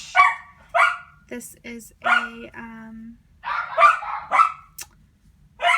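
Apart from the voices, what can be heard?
dogs barking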